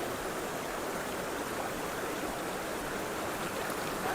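A strong stream of water flows hard near a crab trap, making a steady, loud, continuous rushing wash with no breaks and no voices.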